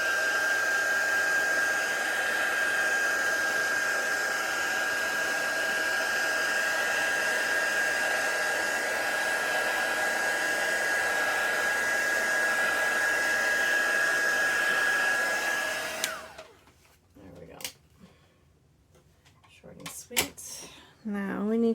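A heat tool whirs steadily with a high whine while drying a mixed media art journal page, running loud and close for about fifteen seconds before cutting off, followed by quiet handling clatter and brief speech.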